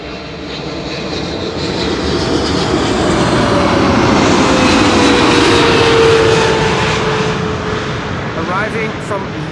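KLM airliner, flight 744 from Lima in Peru, arriving at Schiphol, a loud sustained roaring jet engine that swells and fades with a faint whining tone, under live commentary.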